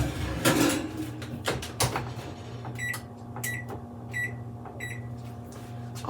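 Metal pizza pans with sourdough discard crusts slide onto oven racks, followed by the oven door closing with clattering knocks and thuds, then a few beeps from the oven controls over a steady hum.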